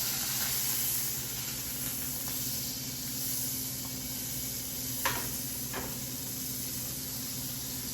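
Butter sizzling in a frying pan while making egg in a hole with bread, a soft, constant hiss with faint crackles and a couple of brief scraping sounds, close and quiet, without talk.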